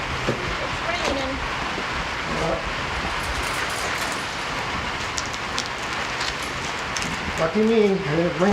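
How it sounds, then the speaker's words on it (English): Steady outdoor rain falls in rural Eastern Tennessee as an even, constant hiss throughout, with brief voice-like tones near the end. "It's raining."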